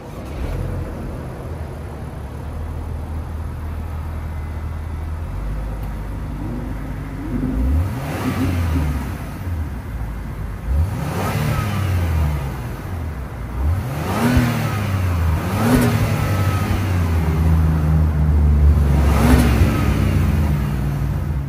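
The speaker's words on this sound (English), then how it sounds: "let's fire up this 3-liter twin turbo V6 and hear how she sounds." The 3-liter twin-turbo V6 of a 2025 Acura MDX Type S idles low, then revs repeatedly in several sharp bursts that climb and fall back, loud and close, with a deep exhaust tone and no voices.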